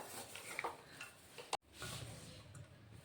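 A spoon scrapes and stirs a sticky jaggery, sesame and cardamom mixture in a pan, with soft irregular scraping and light clinks against the metal, close and fairly quiet.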